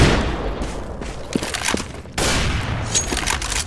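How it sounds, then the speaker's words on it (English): Pistol and AK rifle gunfire in the Counter-Strike video game: a dense, loud clatter of rapid shots that dips briefly, then resumes in a heavier burst. "Going in with a pistol, but pistol versus AK, the AK is going to win."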